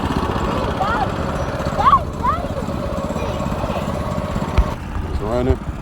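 A Yerf Dog go-kart fitted with a 7-horsepower Predator engine running, its small engine chugging steadily with a rough buzzing idle close by while someone talks over it.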